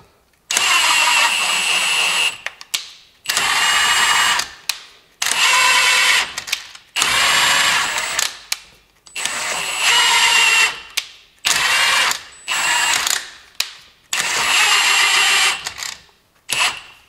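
A CVT gearbox assembly from a Ford Fiesta CTX, freshly greased, run in a series of eight short whirring mechanical bursts separated by brief pauses, loud and close with no talk.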